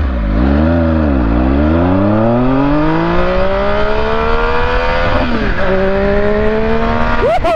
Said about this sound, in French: Maintenant, on est reparti pour l'accélération et ensuite freinage.